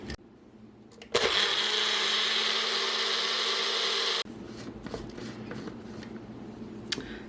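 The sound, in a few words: blender mixing lemon juice salad dressing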